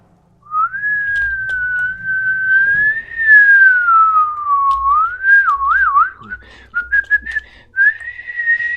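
Someone whistles continuously to play the pitch-controlled game One Hand Clapping, sustaining a clear tone that drifts up and down, then warbling and breaking into short, rapid chirps near the end; low background rumble sits beneath.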